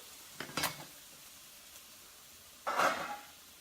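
Garlic and onions are sautéed in a pan, a faint low sizzle with two brief bursts of stirring and scraping against the pan.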